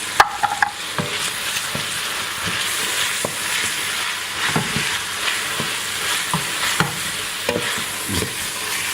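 Garlic sizzling in a pan with bell pepper, chili and celery for a sweet potato fish chowder, a steady close hiss broken by regular scraping stirs and light clicks, with no voices.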